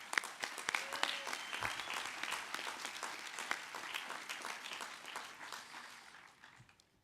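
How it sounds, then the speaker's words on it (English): Broad, sustained applause from a university undergraduate commencement audience in a large venue, steady and moderately distant, tapering off near the end. "So let's give a quick round of applause to that."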